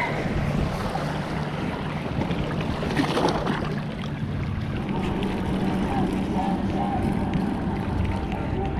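Boat-driven waves on a lake roll and wash steadily near the shore, with a soft splashy burst partway through and wind noise underneath, while someone talks quietly over it.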